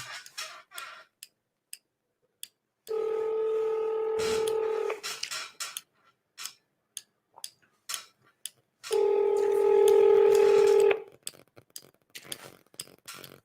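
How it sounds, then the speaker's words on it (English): Telephone keypad tones and two long ringback tones sound over a speakerphone: a rapid string of short dialing beeps, then a steady ring, a pause with more beeps, and a second ring, all fairly loud and clear. "we're seeing if he answers the phone"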